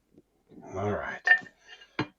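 Metal pan set down on a kitchen stove, giving a short clank and a faint clink after it, close by, with a brief voice just before.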